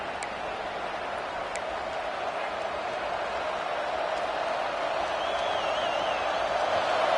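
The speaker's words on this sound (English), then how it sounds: "This crowd trying to make life miserable for this offense." Stadium crowd in the College Football 26 video game during a Georgia at Ohio State matchup, a steady distant roar that holds unbroken throughout with faint whistle-like tones drifting over it.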